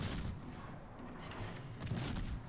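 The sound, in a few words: Cleveland cruiser guns firing in World of Warships video game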